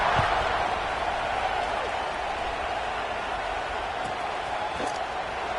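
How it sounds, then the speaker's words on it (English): Steady crowd roar fills a football stadium before kickoff in a New England–Stanford game, a continuous broad wash of cheering with a few scattered claps, no single voice standing out. "They're set to kick it off, and this crowd now ready to get behind them."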